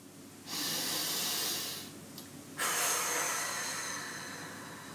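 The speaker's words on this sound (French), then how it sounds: "Prends une profonde respiration." Deep breathing during a relaxation exercise: a long slow inhale followed by a steady audible exhale, close and breathy with no talk.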